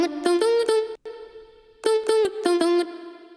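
A vocal chop melody sung on a single repeated vowel, short pitched syllables in quick rhythmic bursts with a brief gap, close and clear with no accompaniment.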